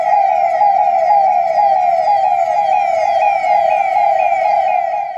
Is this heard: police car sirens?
yes